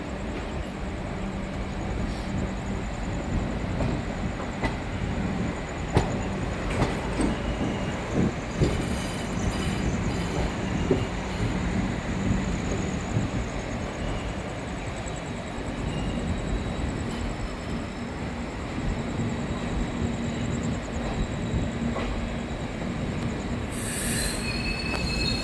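The Jalpaiguri Road–Sealdah Humsafar Express passes close by with loud, continuous rumbling, rail clatter and high-pitched wheel squeals.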